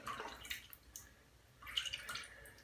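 Water drips faintly into a bowl of Calani Iberische Sonne shaving soap lather, a handful of soft, scattered drips and small wet splashes in a quiet room.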